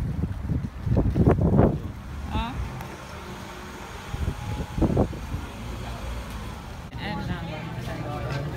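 A strong, cold wind blows outdoors and buffets the microphone with a rumbling roar that rises and falls in gusts, with voices heard in bursts.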